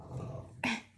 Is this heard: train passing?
no